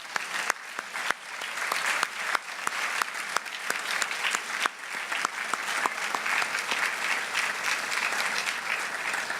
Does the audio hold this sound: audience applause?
yes